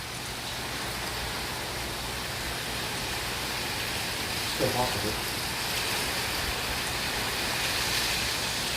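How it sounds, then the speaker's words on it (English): Heavy, wind-driven rain from Hurricane Dorian in Orlando hisses as a constant broadband wash, with a voice speaking briefly through the downpour. "The rain's like going sideways."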